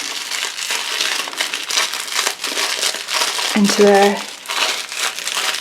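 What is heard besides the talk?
folding plastic bead packets back up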